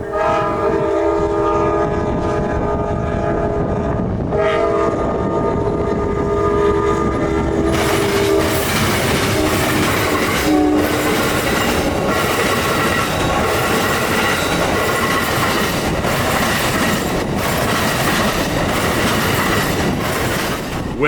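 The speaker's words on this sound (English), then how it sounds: "With their typical Silver Star consist in tow, Amtrak 92 is the second daily Amtrak train that Tampa Union Station will see" An Amtrak Silver Star passenger train passes near Tampa Union Station, loud and close, with steady rumbling wheels, rhythmic clickety-clack over rail joints and a horn blast early on.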